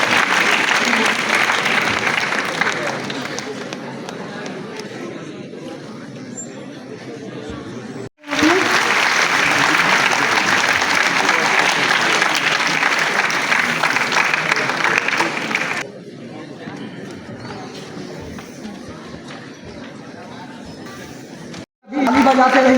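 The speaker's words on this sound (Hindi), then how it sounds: "ताली बजाते रहिए आप लोग।" Sustained, loud audience applause at a prize-giving ceremony during a festival at Banaras Hindu University, a dense wash of clapping that continues with brief breaks and a short drop in level.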